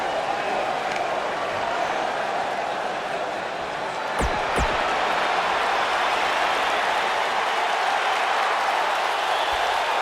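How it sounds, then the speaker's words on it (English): An arena crowd in the wrestling video game WWE 2K19 buzzes with steady, dense cheering and noise throughout, with a couple of sharp thuds midway. "The crowd is buzzing."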